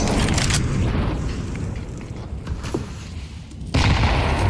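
Grenade explosions in a Counter-Strike esports match, heavy booming blasts with broadband rumble filling the clip, surging loud at the start and again near the end with no talk over them.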